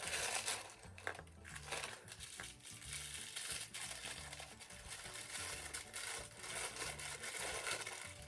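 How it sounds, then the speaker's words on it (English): Plastic and paper packaging from a new L.O.L. doll crinkles and crumples as it is unwrapped, with soft close-up rustles, scrunches and small clicks coming in irregular bursts at low volume. "Excuse the rustling."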